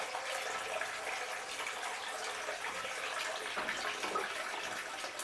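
Water washing black sand across a silicone mat on a miller table, a steady broadband rushing and splashing flow, moderately quiet and continuous, with no talk.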